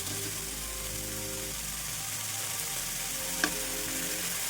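Fenugreek leaves stir-fry over a high flame, giving a steady, dense sizzle with a hum underneath and one faint scrape of stirring.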